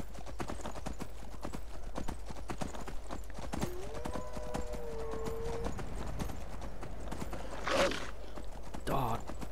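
Horse hooves clip-clopping steadily at a walking pace in the open-world fantasy game Skyrim, with a horse whinny partway through and a couple of brief louder bursts near the end.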